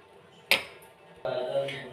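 A spoon clinks once sharply against a cup, then swirls as milk is stirred for Bengali nolen gurer mishti doi, a soft, close scraping slosh in a quiet kitchen.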